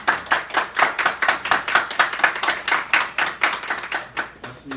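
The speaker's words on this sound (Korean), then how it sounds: "박수 좀 부탁드립니다." A press conference audience of care workers' union members and party officials applauds, steady rhythmic hand clapping filling the whole stretch at close range.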